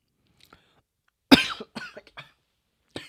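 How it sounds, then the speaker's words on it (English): One sharp, loud cough lands close into a microphone in a quiet room, followed by a few softer throat sounds and small breathy bursts. "cough right in the mic"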